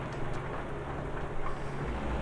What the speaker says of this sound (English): The rain's getting worse.